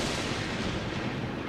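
Rolling thunder boom in a children's cartoon during a storm, a dense continuous rumble filling the short stretch without pause, loud and close.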